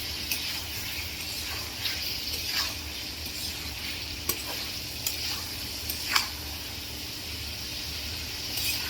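Fish roe is added to a frying pan of rohu fish masala and stirred, giving a continuous close sizzling hiss broken by sharp spatula scrapes and taps against the pan.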